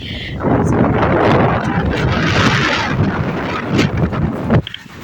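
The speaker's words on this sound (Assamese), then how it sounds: "দেখিছেনে কিমান বতাহ দি আছে" Strong wind roaring and buffeting the microphone in a continuous gusty rush, loud and close, with a brief knock near the end.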